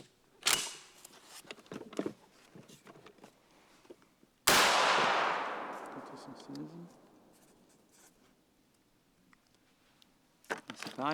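A shotgun fires special waterfowl cartridges, one sharp loud report with a decaying echo amid handling clicks and someone talking before and after.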